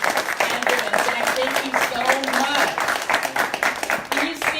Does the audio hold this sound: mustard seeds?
no